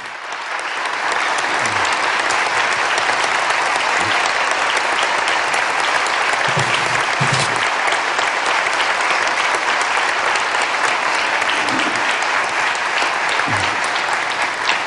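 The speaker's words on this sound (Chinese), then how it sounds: "当他们站起来的时候，请大家用热烈的掌声欢迎他们。" Sustained applause from a large congregation at a church worship service, greeting visiting members from abroad; steady, dense clapping fills the hall throughout with no pauses.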